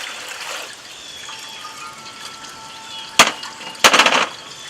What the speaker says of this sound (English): I'm going to fill the bowl.